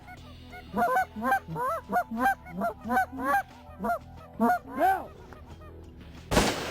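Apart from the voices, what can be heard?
goose calls honking and a gunshot during goose hunting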